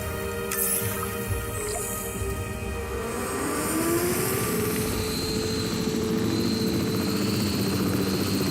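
A capture team helicopter in Jurassic World Evolution 3 thrums steadily with whirring rotor blades and an engine hum, a loud continuous drone that rises slightly in pitch as it holds position.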